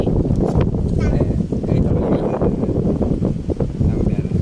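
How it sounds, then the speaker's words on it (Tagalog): Strong wind by a river buffets the microphone in a continuous low roar, with voices talking faintly underneath. "Ang lakas ng hangin"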